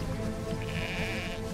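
A sheep bleats in the World War I video game Valiant Hearts, a sustained wavering bleat over a steady game background hum, fairly loud and alone without speech.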